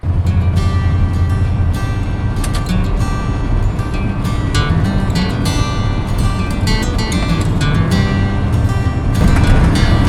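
A 1986 Chevrolet C10 truck drives down a road at night, with a loud, constant engine rumble and broad road noise heard from inside the cab throughout, steady and unbroken.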